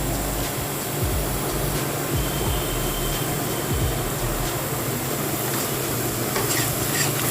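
Onion, ginger and garlic paste with turmeric stirred in a pan for mutton curry, a loud constant sizzle with scraping strokes, set against a steady broad hiss like a nearby fan or burner.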